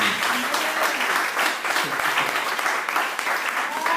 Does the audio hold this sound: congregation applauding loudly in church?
yes